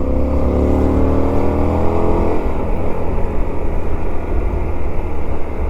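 A Honda Varadero 125 motorcycle hums along a road, its engine tone rising at first then settling into a steady, loud rumble mixed with wind noise.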